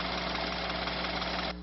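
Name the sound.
car engine idling before shutting down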